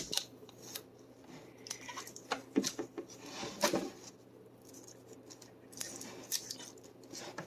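Someone peels the protective film off a new graphics card, making faint, close, intermittent crinkly tearing and crackling sounds with small plastic clicks and no talking.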